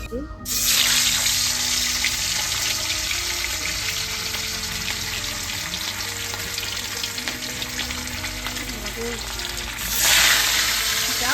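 Fish roe fritters fry in hot oil with a loud, dense, crackling sizzle that runs unbroken throughout and swells louder near the end.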